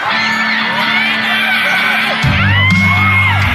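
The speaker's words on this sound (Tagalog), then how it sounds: "Palakpakan natin kasamang hiyawan para kay Alden Richards!" A large crowd at a mall fiesta event cheers and whoops loudly for a celebrity, many overlapping shouts and yells rising together, with a low rumble joining partway through.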